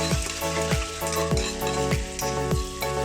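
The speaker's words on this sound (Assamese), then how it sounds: "এতিয়া আলুখিনি দিও ভালদৰে লাৰি থাকিব লাগিব।" Loud sizzling of potatoes and meat frying in a pan, with regular scraping strokes of a spoon stirring them, repeating roughly every half second.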